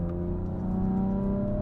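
Carbon-bodied BMW F82 pulling hard, its engine note loud and close with a steady droning pitch that climbs slightly across a short burst of acceleration, no talking.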